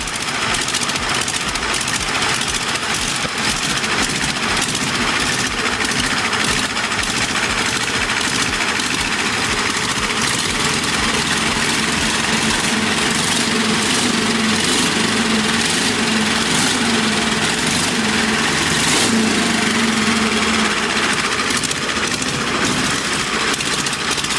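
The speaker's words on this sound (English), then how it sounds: "this air-cooled diesel radial carried a voice all its own. That deep, thunderous rumble" A constant, droning air-cooled diesel radial engine runs throughout, a rough, vibrating rumble with rapid clattering pulses, loud and close, with no pauses.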